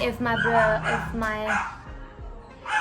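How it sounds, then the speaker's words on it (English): A dog barks repeatedly in a home during a makeup session, several close yips and barks in quick succession, mixed with a person talking over them. "if my stupid dog is barking"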